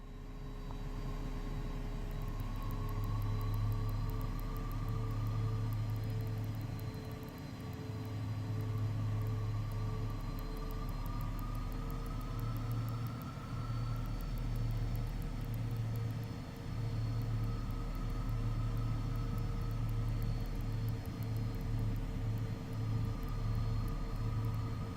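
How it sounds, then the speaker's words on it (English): Learjet 35A jet taking off from runway 29 at St. Louis in Microsoft Flight Simulator 2024, a steady, moderately quiet engine drone with even tonal whine and rumble that holds throughout, with no talking. "Tracer 556, taking off runway 29"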